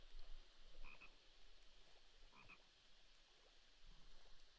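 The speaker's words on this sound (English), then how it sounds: "You can hear the freaking frogs croaking." Frogs croaking in the video game Minecraft, two or three faint, widely spaced croaks set against a steady background hiss, distant and quiet, with no talk.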